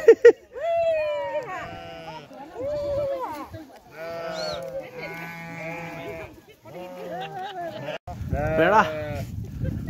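Sheep being herded bleat repeatedly, loud overlapping quavering calls from several animals nearby, ending in a burst of louder, noisier cries.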